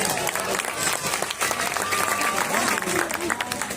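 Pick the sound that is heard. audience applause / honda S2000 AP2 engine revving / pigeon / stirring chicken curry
audience applause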